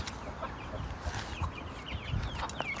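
Chickens cluck softly and intermittently in a farm coop, a few brief calls scattered over a quiet, faint background.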